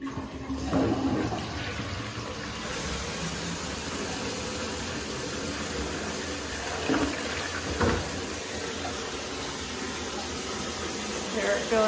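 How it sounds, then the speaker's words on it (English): An old pull-chain toilet tank refilling after a flush, a steady loud rush and hiss of running water throughout, with a few faint thuds and voices talking briefly. "Hear it filling back up?"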